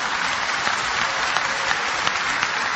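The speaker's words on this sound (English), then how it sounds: "MashaAllah, you're clapping." Steady, dense clapping from a large audience at a religious talk, a continuous even wash of many hands with scattered sharper claps standing out, loud and close.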